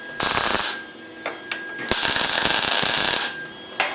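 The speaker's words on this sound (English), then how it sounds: "Here we're just tacking it up." Tack welding on a fabricated steel square, with a few bursts of sharp, hissing arc crackle, two long and several short, close by and loud, with pauses between tacks.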